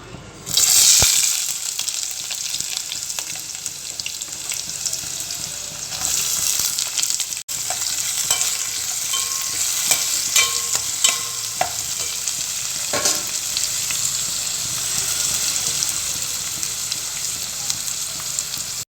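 Onions sizzle and crackle steadily in hot oil with cardamom for a kurma, with occasional stirring scrapes and a brief clatter near the start.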